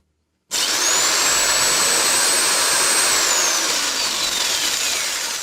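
A 600 watt electric jigsaw runs at high speed, a loud steady high-pitched whine that starts abruptly after a short silence and holds throughout with no talking.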